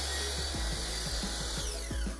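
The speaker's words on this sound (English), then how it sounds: "I'm cutting more trim" A power tool cuts wood trim for a small end table furniture flip, giving a loud continuous whine with a rapid series of rhythmic strokes throughout, close to the microphone.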